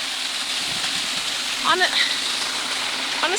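Steady broadband rush of falling water from a waterfall, loud and continuous throughout, with faint brief bird-like chirps near the middle.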